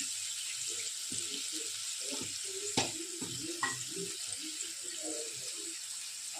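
Spices, including chili powder, cumin powder and salt, fry in oil in a pan for a bata fish jhal. A soft, steady sizzle is broken by a few clinks and scrapes of stirring, fairly quiet and without speech.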